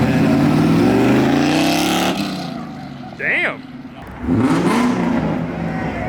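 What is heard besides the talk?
Ford Mustang engine revving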